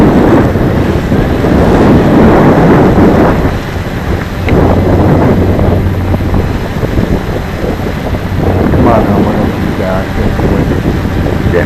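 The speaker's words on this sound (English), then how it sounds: "Getting too windy, guys." Heavy wind buffeting the microphone while a Cheerson CX20 quadcopter drone flies on a gusty day, loud roaring rumble that surges and dips continuously throughout.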